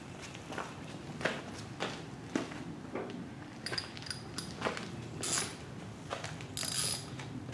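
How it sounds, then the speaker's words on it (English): A hand ratchet snugs a spark plug into a generator during a no-compression repair, giving a series of quick, close clicking and ratcheting sounds in irregular bursts, with no talk. "you can take your ratchet and snug it up."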